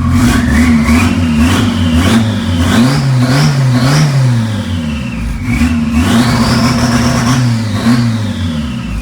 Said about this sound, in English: First drive with the MR2